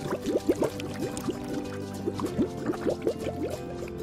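Window cleaning liquid is poured in a cartoon about cars: a run of quick, bubbly glugging pulses, evenly spaced and close, under a soft musical background.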